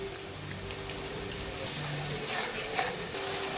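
Onion, ginger and garlic pastes frying in a pan for doi katla, a soft steady sizzle with faint stirring scrapes, fairly quiet throughout and without speech.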